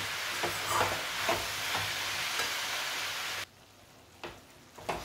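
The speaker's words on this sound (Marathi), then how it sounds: "आता व्यवस्थित फ्राय झालेली आहे, भाज्या मऊ झालेल्या आहेत छान." Mixed vegetables for veg pulao are frying in a pan while being stirred, giving a soft, continuous sizzle with occasional scraping clicks that drops away abruptly partway through, followed by a few faint knocks.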